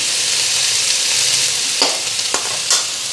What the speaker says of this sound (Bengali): এখন মাঝখানটা একটু খালি কইরা বড়িগুলি দিলাম আলু কোয়াশের লগে ফ্রাই দিয়ে দিব